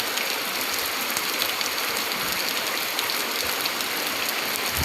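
A heavy downpour in Jetpur, Gujarat makes a dense, unbroken hiss of rain on surfaces that holds steady and fairly loud throughout, with no one speaking.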